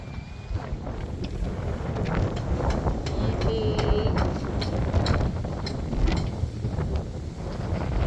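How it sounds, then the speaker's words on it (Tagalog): Strong wind blows along a seafront with heavy waves nearby. It makes a loud, steady roar and buffeting that lasts throughout, with faint mechanical sounds mixed in. "Malakas ang hangin."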